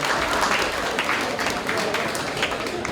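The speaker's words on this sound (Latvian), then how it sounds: "Aplausi sportistiem Ivāns Sarokins un Kristofers Krumiņš." A crowd applauds continuously at a cage fighting event, a dense wash of clapping with a voice over a loudspeaker talking on top of it.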